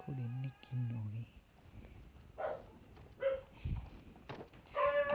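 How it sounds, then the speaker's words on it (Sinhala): A dog barks in a Prop Hunt style hide-and-seek mobile game: a few short barks and yelps scattered among other game noises and tonal effects. "බල්ලා බොන්න සද්දෙකුත් ඇහෙනවා"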